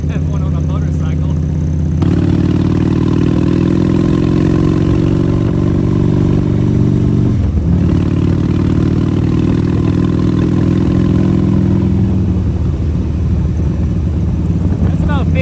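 A motorcycle engine runs steadily while riding at about 50 miles an hour, a constant droning hum with wind, heard under a voice talking.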